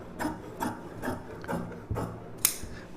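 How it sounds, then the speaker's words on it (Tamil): Scissors snip through fabric while a blouse sleeve is cut, giving a series of quiet, rhythmic crunching cuts roughly every half second, close and fairly faint. "இதில் வந்து ஒரு சிலிவு கட் பண்ணிக்கிறோம்."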